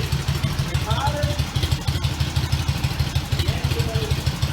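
An Indian motorcycle engine idles as low as it will go with the spark retarded, giving a steady, loud, close-up chugging beat with even, rapid pulses and a faint voice in the background.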